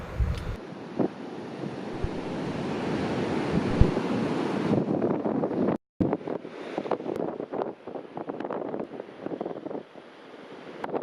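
Steady roar of ocean surf washing in on a rural Uruguayan shore, heavy wind buffeting the microphone throughout, with a brief dropout midway.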